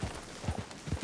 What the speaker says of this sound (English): Horse Lirius, why are you always running in the trees?